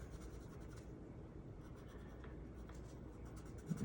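Cretacolor Aqua Monolith watercolor pencil in Glacier Blue scribbling across paper with medium pressure, a steady continuous scratchy rasp moving in all directions, close and alone.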